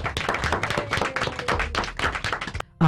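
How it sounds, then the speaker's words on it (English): An audience applauds for author Geraldine Hughes in a dense, continuous burst of hand claps and taps. The clapping cuts off abruptly near the end. "Can we clap it up for Geraldine Hughes?"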